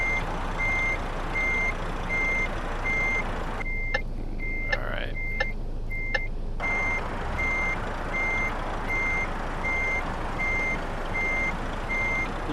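Truck reversing alarm in Euro Truck Simulator 2: a steady train of evenly spaced, clear beeps repeats throughout over a low engine rumble, with the background briefly dropping away midway while the beeps continue.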